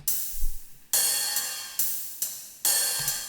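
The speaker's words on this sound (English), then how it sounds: "So this is just a cymbal rack." Several bright, washy metallic cymbal hits, one after another at an uneven pace, each ringing and slowly decaying.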